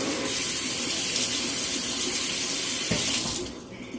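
Tap water runs steadily into a kitchen sink as a celery stalk is rinsed under it, a continuous close splashing stream that thins out near the end.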